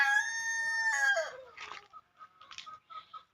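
A rooster lets out a long crowing call, followed by several short, scattered clucks from hens close by on a small poultry farm.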